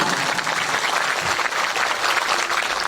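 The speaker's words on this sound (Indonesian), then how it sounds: "buat santri tepuk tangan dulu ya" Steady applause from an audience of students at an Islamic boarding school gathering, a dense wash of clapping that holds evenly for a few seconds without a voice over it.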